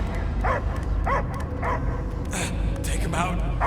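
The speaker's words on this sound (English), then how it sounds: "I hear only barking." Several sharp dog barks and yips in the Guardians of the Galaxy video game, recurring every half second or so over a dense game soundscape, with voices speaking around them.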